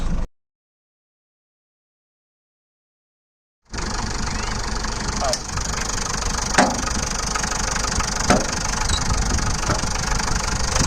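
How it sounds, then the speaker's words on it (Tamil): After a brief burst and a few seconds of silence, a Hindustan Ambassador's 1500 cc diesel engine idles steadily with a low rumbling drone and a few faint clicks. "1500 cc டீசல் இன்ஜின்"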